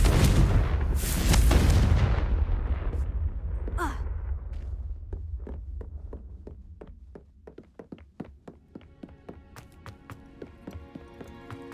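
A Confringo blasting spell goes off in Hogwarts Legacy with a loud, booming burst that rumbles and fades over several seconds, followed by a run of sharp, rhythmic clicks and taps.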